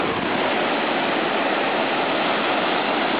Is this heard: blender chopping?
no